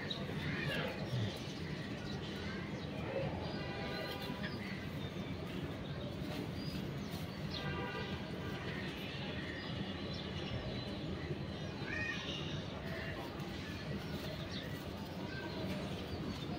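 Pigeons coo inside a loft, repeated soft cooing calls recurring at intervals over a steady background murmur, fairly quiet and close.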